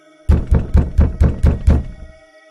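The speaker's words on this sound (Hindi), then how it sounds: "तभी उसको अपना दरवाजा खटखटाने की आवाज आती है" A door is knocked on six times in a quick, even series of loud, close thuds that end abruptly, with no talking.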